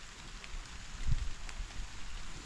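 Steady rain falls outdoors around a farm pen under construction, a soft continuous patter with a slightly louder swell midway and no voices.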